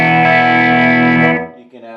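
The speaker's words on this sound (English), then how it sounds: "You can add a bit of chorus to the reverb." Electric guitar through a Fender Champion 20 modelling amp with chorus layered on reverb: a held, shimmering chord rings loudly, decays, then a softer note is picked at the end.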